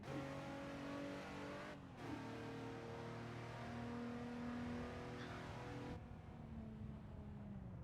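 Race car engine in the Assetto Corsa driving game revving steadily during a cruise, with harmonic engine tones rising and falling, a brief cut near two seconds and a gear-change drop around six seconds.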